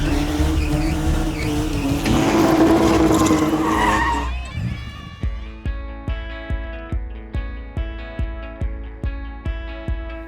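A modified car spinning in a stunt competition, tires squealing loudly for about four seconds with engine roar and crowd noise, then giving way to a regular pulsing beat of music.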